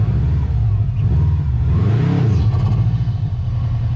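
A Subaru STI's engine revs hard as the car tries to pull out of snow, a loud, close, steady rumble with a swelling rise in pitch midway, some voices faintly underneath.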